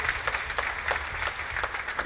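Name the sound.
audience applause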